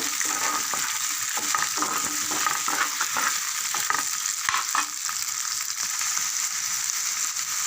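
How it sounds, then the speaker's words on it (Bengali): Chopped onions fry in a pan for a prawn fritter curry, a bright, steady sizzle broken by frequent scraping and stirring clicks from a utensil, close and without talk. "পেঁয়াজটা ভেজে নেব।"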